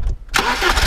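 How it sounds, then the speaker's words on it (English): A 1991 BMW 318is E30 engine cranks and catches close by, a loud burst of starting that settles straight into a steady running roar. "Go ahead and start her up."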